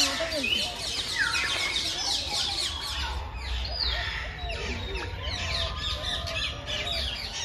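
Many birds call and chirp together at a park zoo with duck pens, including Muscovy ducks, near a river mouth: a dense, continuous mix of high tweets, squawks and occasional quacks, close and fairly loud, with no clear talk.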